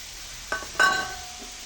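Dried prawn and ponnanganni greens being stirred in a pan, with two short scraping clinks of a spoon against the metal over a faint, steady sizzle.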